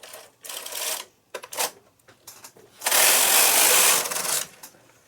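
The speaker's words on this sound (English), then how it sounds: "I put it into hold and I'm just moving my carriage across." Carriage of a home knitting machine pushed across the needle bed, giving a few short clattering sweeps followed by one longer, louder rasping pass lasting over a second, close and with no talk.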